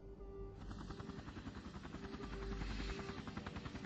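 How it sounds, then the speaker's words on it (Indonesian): A rescue helicopter's rotor beats in a fast, steady, heavy thump with a constant engine whine, loud and close, and no talk over it. "Dokter Su, ini helikopter penyelamat yang disiapkan Kapten untuk Anda"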